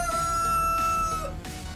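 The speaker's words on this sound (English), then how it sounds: "Rooster." A rooster-crowing ringtone plays from a phone, a loud, continuous, electronic-sounding crow filling the short stretch with no voices.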